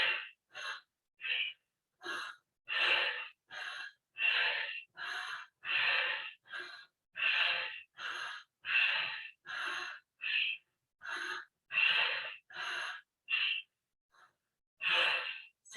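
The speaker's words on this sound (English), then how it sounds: "I'm going to set a pace that is a powerful wake up Kundalini breath." Rapid, forceful Kundalini breath of fire during a morning yoga session, sharp rhythmic nasal exhalations repeating in quick succession for many cycles, close and fairly loud, with brief pauses between groups.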